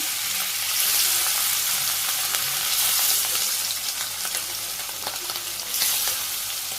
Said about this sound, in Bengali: তেল গরম হয়ে গেছে একটা করে মাছ মাছগুলো দিয়ে দিই